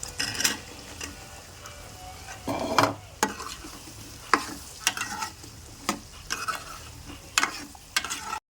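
Okra dropped into a hot pan and stirred, with sharp metallic scrapes and clatters from a spoon recurring every second or so over a low sizzle, close and fairly loud, no talk.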